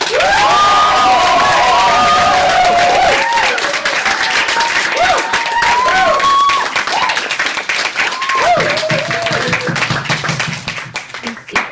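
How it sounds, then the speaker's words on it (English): A university audience at a 2015 Stanford speaking event bursts into loud, sustained applause with whoops and cheers that gradually thin out toward the end. "So some whooping and cheering and clapping and ovations before we even go."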